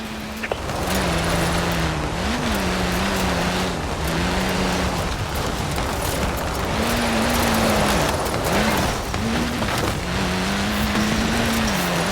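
A car in the racing game Forza Horizon 4 revs its engine while its tyres shred, with a wavering, rising and falling engine drone over a constant loud hiss of tyre noise throughout.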